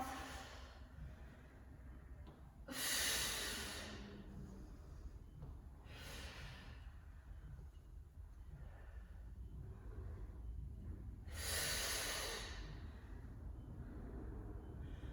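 Slow, deep breaths during a crow pose yoga vinyasa, with three loud breathy exhales spaced several seconds apart and quieter inhales between, close to the microphone.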